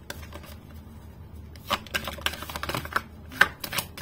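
Tarot cards are shuffled and drawn, close and crisp, with a quiet start and then a run of quick riffling slaps and snaps, uneven in rhythm, with no talking.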